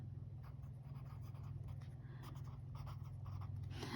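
A pen writes out an electrochemistry reduction equation, making faint, soft scratching strokes in a run of short bursts against a quiet background.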